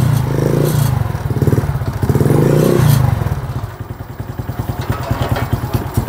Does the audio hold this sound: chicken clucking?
no